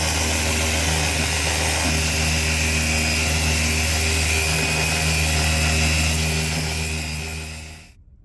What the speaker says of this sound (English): let's get the sander on it and get that nice and flat